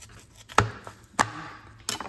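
A knife cuts through a beetroot top in three sharp, close chops that are evenly spaced and land on a quiet board.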